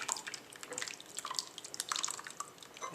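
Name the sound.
soup poured into a bowl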